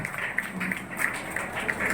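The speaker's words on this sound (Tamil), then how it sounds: "கைத்தட்டுங்கப்பா, கைத்தட்டி பாராட்டுங்க." An audience at a chit fund company meeting claps in a steady, moderately loud patter, with scattered sharper hand claps standing out through the brief applause.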